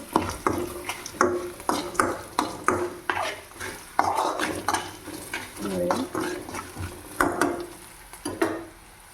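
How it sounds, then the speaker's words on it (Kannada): Tempering frying in a pan on a gas stove at low flame for lemon rice, with a spoon repeatedly scraping and stirring through a steady sizzle, the clatter of utensil on pan close and prominent. "ಇದೆಲ್ಲ ನೀಟಾಗಿ ಫ್ರೈ ಆಗೋದಂತ ನೋಡ್ಕೊತಾ ಇರಬೇಕು. ಸ್ವಲ್ಪ ದೂರಿಂದ ಫ್ರೈ ಮಾಡಿ."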